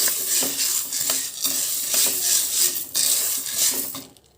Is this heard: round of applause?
no